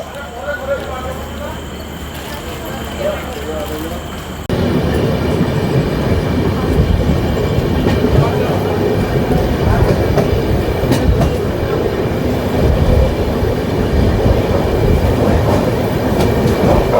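The Shri Jagannath Express (18409) passenger train, Kolkata to Puri, rumbles along steadily near Jaleswar station, loud and continuous after a quieter opening with faint background voices.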